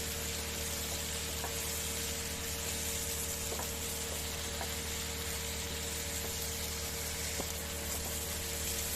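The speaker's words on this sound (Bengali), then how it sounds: "এগুলোকে আমি ভালোভাবে ফ্রাই করে নিচ্ছি" Shrimp with Malabar spinach and pumpkin pieces frying in a pan, a steady, fairly quiet sizzle with occasional soft stirring clicks and a constant low hum underneath.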